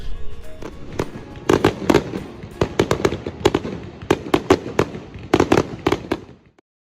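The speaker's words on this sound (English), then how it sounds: "My favorite part of the 4th of July is the fireworks." Fireworks bursting at a Fourth of July celebration, a rapid run of loud, sharp cracks and booms in irregular clusters, close and unaccompanied by talk, ending abruptly.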